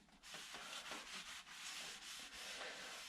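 Cloth wiping dust off a painted plywood name board, brisk close rubbing strokes in a quick uneven rhythm, alone with no talk.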